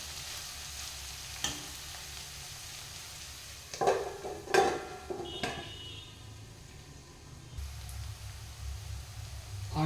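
Onions frying in a pan for a quick curry, a steady soft sizzle close by, broken by a few sharp spoon scrapes and stirring clatters in the middle, with no talking.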